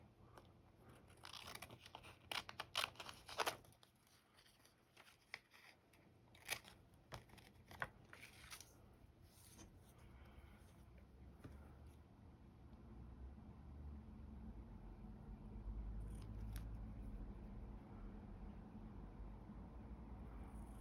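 Scissors snip through a paper display card for a miniature magic shop build, a run of sharp, close cuts in quick bursts that fade into a low background hum.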